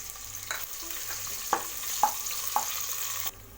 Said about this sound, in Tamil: சேர்த்துட்டு நல்லா ஃப்ரை பண்ணணும் வெங்காயத்தை.